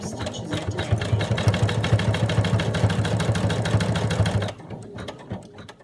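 A sewing machine runs a rapid, even stitch across a fabric tag for a washcloth cat. The loud, continuous mechanical chatter lasts about four seconds, then cuts off, leaving a quiet tail.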